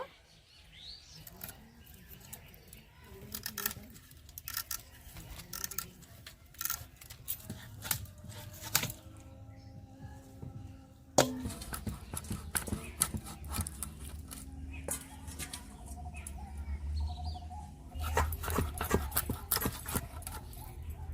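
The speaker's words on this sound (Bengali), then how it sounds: "এখন আমি মাছটা কেটে নেব" A fresh river pangas fish is cut up in a home kitchen, with crisp snipping and clicking cuts and small metallic clinks arriving in irregular bursts over faint background noise.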